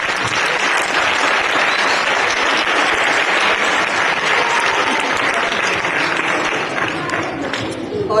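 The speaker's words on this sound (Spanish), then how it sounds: "Un fuerte aplauso." An audience at a school closing ceremony breaks into loud, sustained applause, dense clapping filling the whole stretch and easing slightly near the end.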